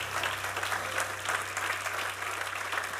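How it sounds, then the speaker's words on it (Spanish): Church congregation clapping in praise during a Spanish-language sermon; sustained, dense applause with a low steady hum beneath, fairly even in loudness throughout. "Dale un aplauso al Señor."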